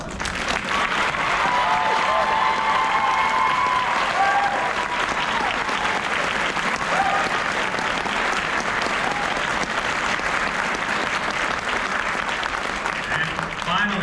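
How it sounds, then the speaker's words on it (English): Audience applause for choir members chosen for a district chorus, a steady dense wash of clapping that holds loud and unbroken for the whole stretch. "Let's give them a round of applause."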